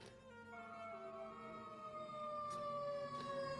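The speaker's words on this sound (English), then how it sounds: "The ambulance just come. Look how loud the motherfucker ambulance." An ambulance siren wails continuously and loudly nearby, its steady sweeping tone holding throughout with no talking over it.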